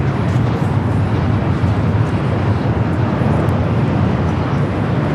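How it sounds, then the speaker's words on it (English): An Air Tahiti Nui Boeing 787 Dreamliner takes off at LAX with a loud, sustained broadband jet roar, dense and steady throughout, heard from a distance with no voices. "we got that Air Tahiti Nui Flight 7 heading back to Papa Ete, the Dreamliner, heading up now for a north side at takeoff"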